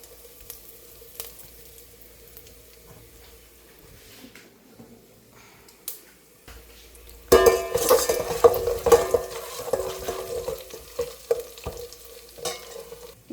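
Pepper corns, cumin seeds and curry leaves frying in hot oil for Kalyana Sambar, a loud burst of sizzling and crackling starting midway after quiet kitchen stirring, then settling into a steady fry.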